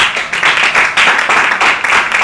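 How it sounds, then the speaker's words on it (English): Dense applause from an audience at a Founders Day event, many hands clapping together in a steady, bright wash that swells slightly and continues throughout. "Please clap for that."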